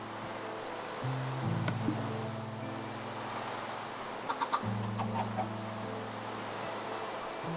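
Chickens in the Minecraft video game give a few soft clucks over a steady background wash and low game tones, faint and brief.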